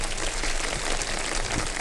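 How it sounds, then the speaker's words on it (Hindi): A dense, steady wash of studio audience applause at a Ramadan iftar television show, continuous and fairly loud for the whole stretch with no talk over it. "बहुत सारी तालियां बजाते भाई"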